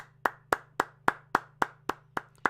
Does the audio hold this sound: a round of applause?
yes